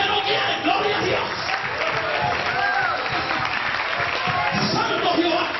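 Church congregation clapping continuously and densely throughout, a steady wash of applause mixed with crowd voices and shouting at a lively worship service.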